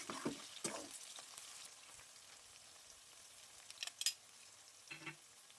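Okra frying in a pan and stirred with a spoon, a quiet steady sizzle broken by a few sharp scraping clinks of the spoon near the start, middle and end.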